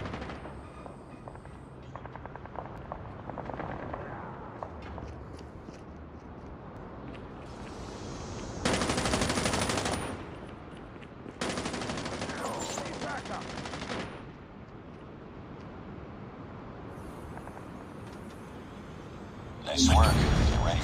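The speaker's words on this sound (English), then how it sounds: "Friendly sentry gun deployed." Bursts of automatic gunfire from a deployed friendly sentry gun in a Call of Duty-style multiplayer shooter with the HBRA3 Honey Badger rifle, two sustained rattling volleys a few seconds apart amid background battle noise and game voice lines.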